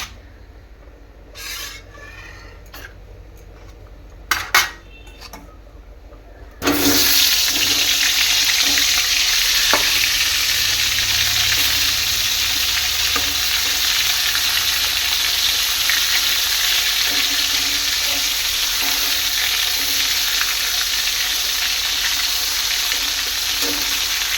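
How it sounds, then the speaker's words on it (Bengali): Eggplant slices hit hot oil in a wok with a sudden loud burst of sizzling that then holds as a steady, dense frying hiss, after a few quieter clatters and knocks at the start. "আর এই যে বেগুন ভাজতে বসাবো তেলটা গরম হয়ে গেছে দেখো এই কড়াইয়ের মধ্যেই দিয়ে দিলাম"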